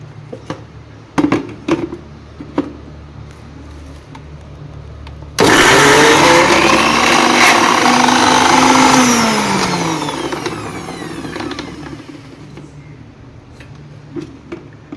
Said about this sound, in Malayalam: ഇത്രയും കൂടെ ചേർത്തിട്ട് മിക്സിയിലിട്ട് ഒരടി അടിച്ചെടുക്കണം